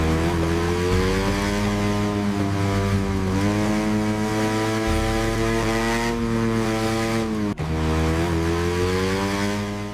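A small, light military motorcycle of the kind ridden by Russian soldiers in Ukraine revs loudly and continuously, its buzzing engine pitch rising and falling in waves with no voices over it.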